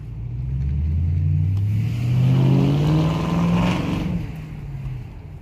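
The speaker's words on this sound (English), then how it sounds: "you guys can hear the sound resonate off the wall" A 4.6-liter V8 Ford car with a modified exhaust rumbles past close by a wall that echoes the sound, its deep exhaust note rising and swelling, then fading as it drives on.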